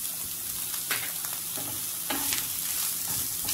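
Green peas, carrot and capsicum sizzling as they are stir-fried in a pan for masala oats, a steady hiss with intermittent scraping strokes of a spatula, close and alone.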